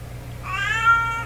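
A single clear, close meow from a domestic cat, rising and held for most of a second, set against a faint steady low hum in an otherwise quiet room.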